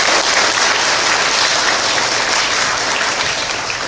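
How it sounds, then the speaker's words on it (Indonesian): Church youth-day audience gives a band from Pujon a loud, dense round of applause, continuous crowd clapping sustained throughout without a break. "Boleh tepuk tangan untuk mereka?"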